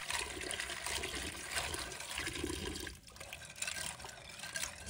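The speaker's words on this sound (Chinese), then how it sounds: "放在流水下仔细冲洗。 水流要适中，不断翻动花蛤" Clams rinsed under a steady stream of running tap water while being turned by hand. The water rushes and splashes continuously at moderate loudness, easing briefly partway through.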